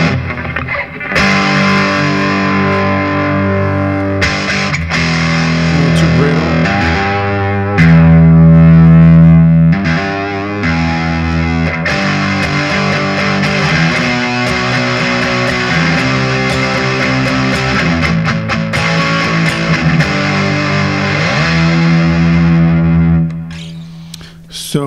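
Electric guitar played through a ProCo Lil Rat mini distortion pedal, giving a loud, saturated, grungy tone with sustained chords and shifting riffs throughout, alone without talk.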